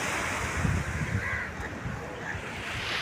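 Sea waves wash in a continuous, fairly soft roar along the shore, mixed with wind buffeting the microphone.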